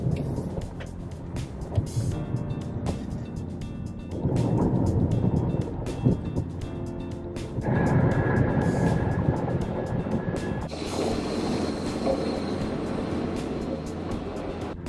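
A car driving home from the park, heard from inside: a steady engine and road rumble that shifts in tone a few times as the ride goes on, with no talking.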